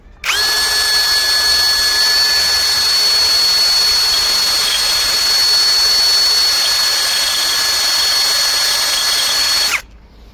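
A Grosser GCD 520Q cordless drill whirs at high speed in one long continuous run, a loud steady whine with a sharp start and stop, close by.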